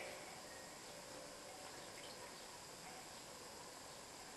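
Water runs from a tap into a bathroom sink in a steady, unbroken hiss and rush, faint and even throughout with no voices.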